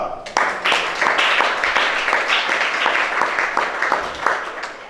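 A worship congregation in church claps in a strong, rhythmic pattern with distinct beats, loud and close, while voices call out over the clapping.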